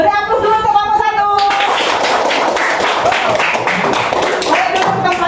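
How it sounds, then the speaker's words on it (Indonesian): A classroom of children claps for a group's presentation, the clapping starting after a brief voice and continuing as a loose, busy patter with voices mixed in. "Beri aplaus dulu untuk kelompok 1."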